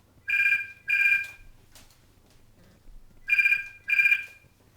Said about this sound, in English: oh great, my phone's gone off